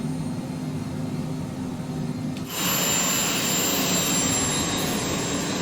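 Private jet engines spooling up for departure in Microsoft Flight Simulator, a steady roar that jumps to a louder, brighter whine partway through and holds loud and continuous.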